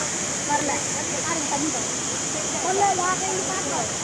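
Water pours down a waterfall in a steady, broadband rush that stays even from start to end, with faint voices talking underneath.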